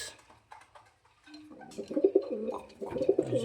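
Four pigeons kept in a loft, cooing in short, soft, repeated phrases close by, with quiet rustling before the calls build and continue steadily.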